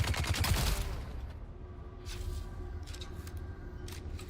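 Video game gunfire from a shooter, a loud dense burst of rapid shots at the start, then scattered fainter single shots and short volleys against a low background rumble.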